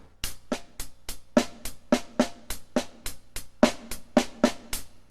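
Drum sticking played as a single paradiddle, right-left-right-right then left-right-left-left, sounding as a steady run of crisp, evenly spaced strokes with some notes louder than others, close and alone.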